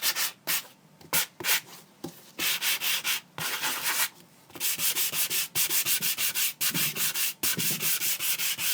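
A sanding block rubs back through stamped and painted layers on a craft heart, fast repeated scratchy strokes in bursts with brief pauses between, close and fairly loud.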